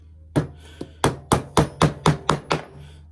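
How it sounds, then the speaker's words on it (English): A hammer drives nails into the side of a cigar box guitar, about nine sharp, ringing hollow knocks at an uneven but steady pace, close and loud with no talk. "I'm going to actually put a few nails in now on the side"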